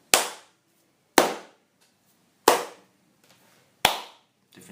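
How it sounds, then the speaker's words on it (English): Single hand claps recorded as samples for Ableton Live, four loud sharp claps spaced about a second apart, each decaying quickly into silence, with no talking. "we're just gonna record our claps. So I like to do 3 claps"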